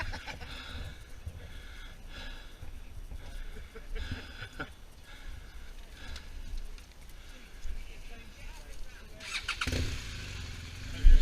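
Honda Africa Twin motorcycle on a group big-bike ride around Hertfordshire, engine rumble with wind noise rising and falling, while people talk over it and a louder burst comes near the end.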